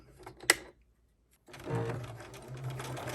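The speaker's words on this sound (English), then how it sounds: "place fabric right side together and sew together your short 5-inch" A sewing machine stitches a short fabric seam for a scrunchie made from sublimated custom fabric, running steadily for about the last half after a brief click and a pause.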